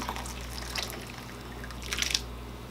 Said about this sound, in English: Be careful pouring your soup so it doesn't splash on you.